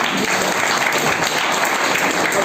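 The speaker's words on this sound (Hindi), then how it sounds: "पहले नंबर से एक बार जोरदार ताली अमन जी के लिए" Indoor audience at a networking meeting clapping hard for a speaker, a dense, even burst of many hands that runs steadily throughout without breaks.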